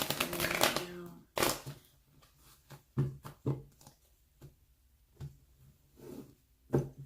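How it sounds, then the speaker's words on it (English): Rider-Waite tarot cards being shuffled by hand, a burst of riffling followed by a series of soft, irregular card taps and slides, close and quiet with no talking. "Just gonna shuffle."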